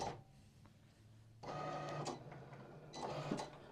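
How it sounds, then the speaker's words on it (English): A vinyl cutting machine slices a vinyl sheet for board game books, starting with a quiet hum before its steady mechanical whir and carriage rasp kick in, rising and falling close by in a quiet room. "now the machine is cutting it and you don't need to do anything"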